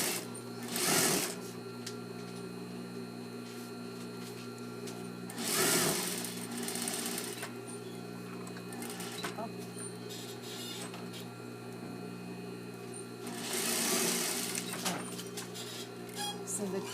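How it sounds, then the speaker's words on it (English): A sewing machine stitching a shirt-dress collar with 1/4 inch seam allowances, a steady close mechanical whir with rhythmic needle clatter running throughout, swelling in short bursts at intervals. "So I'm using 1/4 inch seam allowances to sew this collar together."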